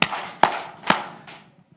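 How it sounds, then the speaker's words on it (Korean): An audience at an evangelistic church meeting claps in unison four times, sharp synchronized claps spaced about half a second apart, the last one softer. "박수 4번 시작."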